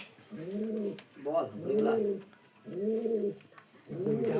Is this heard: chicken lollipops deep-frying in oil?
no